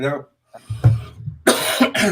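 A couple of harsh coughs from a nearby person, with a brief throat sound and a short pause between bursts.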